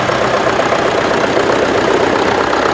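A 1984 Massey Ferguson 690 tractor engine, all original, idles close by with a steady, loud diesel rumble and even chugging throughout, no voices over it.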